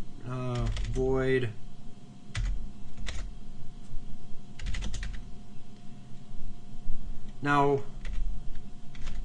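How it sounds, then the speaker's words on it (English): Computer keyboard typing C++ code, bursts of quick clicky keystrokes close by, interleaved with someone talking. "we'll go ahead and type this in the way that might feel right to you"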